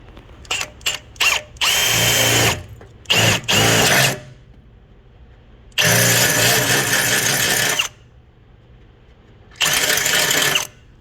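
Several short bursts of a power drill whirring, then three longer sustained drilling runs separated by quiet pauses, loud and close.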